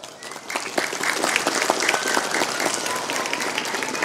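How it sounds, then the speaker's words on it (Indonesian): A religious lecture audience applauds for the pesantren, clapping swelling after a brief lead-in and then holding steady and fairly loud, with a few voices murmuring underneath. "Maka tepuk tangan untuk dunia pesantren."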